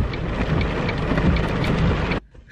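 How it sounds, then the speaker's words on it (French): Heavy August rain pours down in a dense, loud, steady wash of drops on surfaces, then cuts off abruptly near the end, leaving a faint, quiet background. "Il pleut, bergère."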